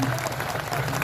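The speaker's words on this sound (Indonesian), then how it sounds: "Tepuk tangan dulu buat kepala desa kita." An audience at a village gathering in Indonesia applauds the village head, a steady wash of clapping from many hands, and a voice speaks over it.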